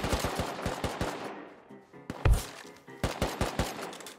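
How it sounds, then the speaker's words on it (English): Gunfire in Rust: a fast burst of close, sharp shots, a short lull with one heavy thump, then another rapid volley of loud cracks. "There was another guy shooting at him though."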